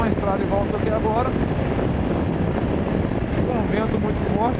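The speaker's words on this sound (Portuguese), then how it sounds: "Com um vento muito forte." Strong wind buffets the microphone on a moving BMW G 650 GS motorcycle in a steady low roar, with a voice speaking faintly underneath.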